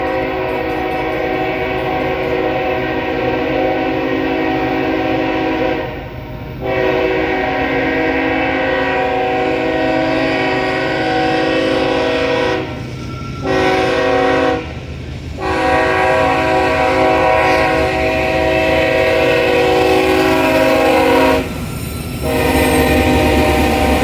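Norfolk Southern 240 freight train led by a new BNSF ES44C4 locomotive sounding a loud, close multi-tone horn in long blasts with short gaps, over the rumble of the passing train in Cornelia, Georgia.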